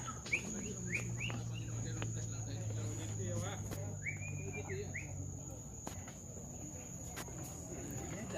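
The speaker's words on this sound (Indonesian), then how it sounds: "Sini banyak burung nih, Bar." Birds in a mangrove forest at Kuala Langsa, Aceh, give several short chirps and whistled calls over a steady insect buzz, moderately near, with a person talking briefly at times.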